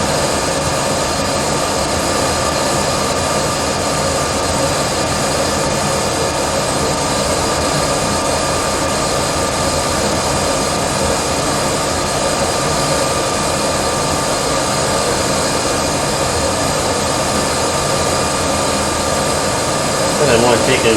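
Monarch Merit lathe running a turning cut at 100 RPM with about 8 thousandths feed per revolution, a steady continuous machine drone with broadband hum that holds unchanged throughout.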